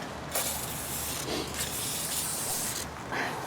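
Steady hiss of an aerosol spray can releasing a continuous jet for several seconds, close and fairly loud, with brief dips in intensity, spraying the front axle nut of a 2001 Pontiac Grand Am during wheel hub replacement.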